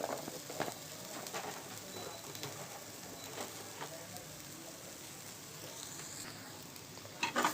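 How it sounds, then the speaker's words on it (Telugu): Chili powder frying lightly with soya meal maker chunks in a little oil, a soft sizzle with intermittent stirring scrapes, faint and steady, with a bird cooing faintly in the background. "కారం కూడా వేయించాను లైట్గా"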